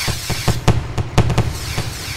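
Fireworks crackling and popping in quick irregular bursts in Farming Simulator 2013, several sharp bangs in a row over a continuous low rumble.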